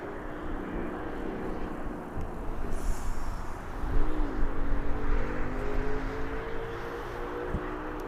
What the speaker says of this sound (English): Our next arrival, which is a Ryanair, I believe.